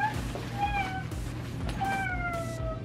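A cat meows twice, clear and close, with a gap between the calls, over a steady low hum in an indoor room.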